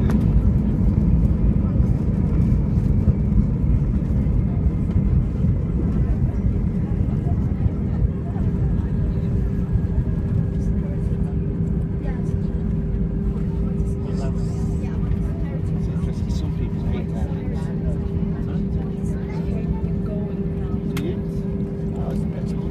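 Steady loud rumble and roar inside a British Airways Airbus A320 cabin landing at London Heathrow, continuous engine and airframe noise with people talking over it.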